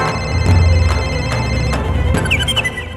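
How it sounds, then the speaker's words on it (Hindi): A mobile phone ringtone rings from inside a buffalo's belly: a steady, tuneful electronic ring that plays continuously and fairly loud throughout, with no talking. "फोन यहीं कहीं बज रहा है।"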